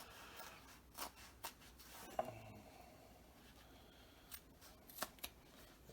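Craft scissors snip through duct tape in a few short, sharp cuts spaced irregularly, quiet and close against a faint background with no talk.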